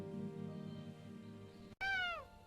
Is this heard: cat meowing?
yes